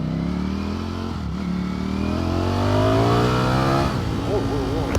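A Ducati Streetfighter V4S sport motorcycle with a 208 hp V4 engine revs loudly and close up, its pitch climbing steadily before warbling through quick throttle blips near the end.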